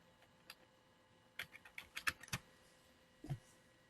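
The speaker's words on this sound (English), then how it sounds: "I type in my letters" Computer keyboard typing as letters are entered in lettering software: scattered quiet clicks, then a quick burst of several sharper keystrokes and a final thud, all fairly close with no voice.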